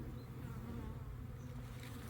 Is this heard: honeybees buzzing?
yes